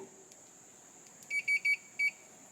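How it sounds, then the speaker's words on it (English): Four short electronic beeps in quick succession from a small circuit tester during work on a 1957 GMC, clean and evenly spaced over a faint background hiss. "always check your checking equipment. Beep beep beep."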